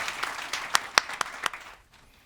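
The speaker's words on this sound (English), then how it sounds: "Big applause for Will." A conference audience applauds, a short burst of scattered, distinct claps that thins out and fades to near silence after about two seconds.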